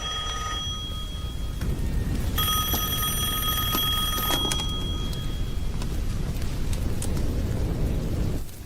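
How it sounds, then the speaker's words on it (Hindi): A telephone rings in a tense scene from a Hindi-dubbed South Indian action film, a bright repeating electronic trill over heavy rain-like background noise, lasting a couple of seconds before fading under the continuing wash. "वो फोन है।"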